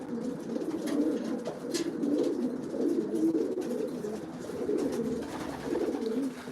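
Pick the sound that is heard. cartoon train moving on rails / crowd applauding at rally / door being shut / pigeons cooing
pigeons cooing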